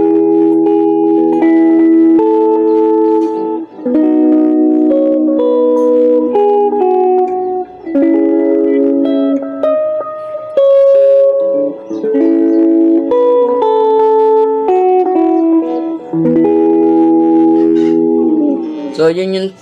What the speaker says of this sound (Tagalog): parinig ko sa inyo kung ano ba yung tunog ng delay